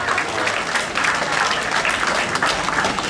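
An audience claps steadily and briskly for a volunteer fire brigade brass band receiving a distinction at a regional brass band festival in Nałęczów, close, dense applause with no breaks.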